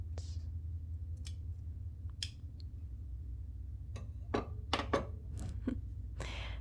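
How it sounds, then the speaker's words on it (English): Several crisp snipping clicks of scissors cutting thread, close by, spaced irregularly over a low steady hum. "Those are pretty loud scissors."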